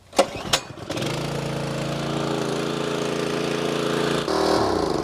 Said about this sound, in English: while Dulcet sees if he can even make the pressure washer work